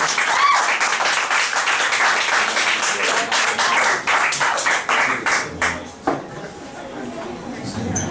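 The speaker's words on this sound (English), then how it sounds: "Keep clapping." Lively audience clapping at a spoken word poetry showcase in New York, loud and dense at first, then thinning into scattered claps and fading out, with a voice speaking near the end.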